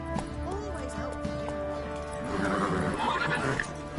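Roach, a horse in The Witcher 3, whinnies in a drawn-out neigh, then galloping hoofbeats build toward the end, fairly close and loud over game ambience.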